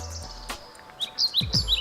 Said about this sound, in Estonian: Vaata neid kahte pääsulindu seal.